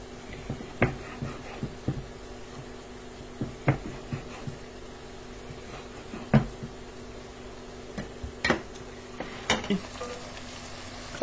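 Sausage browning in a pan gives a continuous low sizzle broken by frequent sharp pops and spatters, some louder than others, with no voices.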